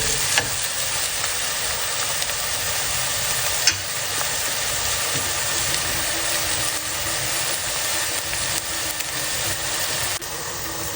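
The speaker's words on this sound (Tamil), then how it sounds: "வெங்காயம் நல்லா வதங்கிடுச்சு." Onions sautéing in a pan for a one-pot cauliflower and tomato kurma, giving a loud, steady, close sizzle that runs unbroken throughout, with faint stirring scrapes underneath.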